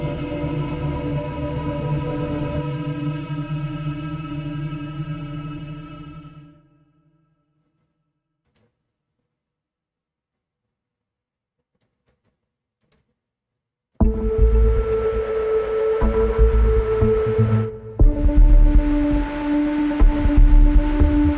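A synthesizer arpeggiator sequence plays a bright buzzing tone for several seconds, falls silent, then returns with a fuller, brighter pattern, with no talking.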